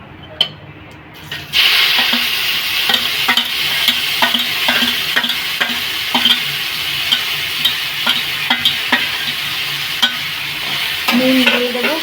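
Tomatoes hit hot oil with browning cumin seeds for a chhana and potato curry. After a quiet first second, a loud, continuous sizzle starts abruptly, dotted with scraping clicks of stirring near the pan.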